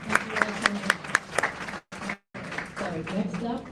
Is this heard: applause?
yes